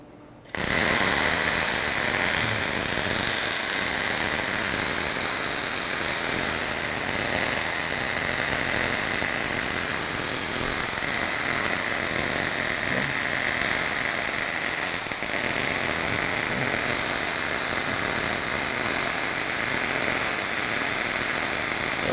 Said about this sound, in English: Go ahead, Colby, run a bead